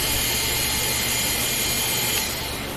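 A salvaged, rust-covered Kuchuan KQ200 booster pump runs after being plugged in, its motor producing a steady, loud whirring drone that holds constant and eases slightly at the end.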